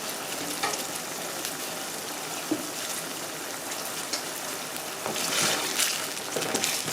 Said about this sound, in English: So we're gonna continue cooking the spaghetti into our red wine sauce until we achieve this luscious, sexy ruby red color.